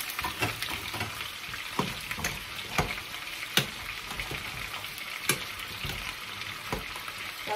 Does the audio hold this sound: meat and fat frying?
yes